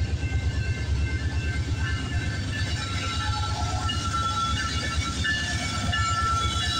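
CPKC westbound freight train 135, led by locomotive CP 8112, rolls past at Guelph Line in Campbellville, Ontario, with a loud, close, continuous rumble and rhythmic wheel clatter on the rails.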